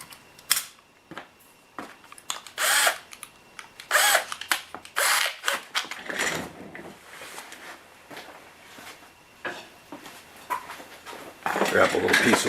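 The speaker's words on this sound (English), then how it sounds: "then I'm going to drill through from the back side" A power drill with a 3/16 bit bores through a part from the back side, with a scrap of wood underneath, during a headlight mod on a 1/14 Tamiya Grand Hauler. Several short, whirring bursts sound up close, with handling clatter between them.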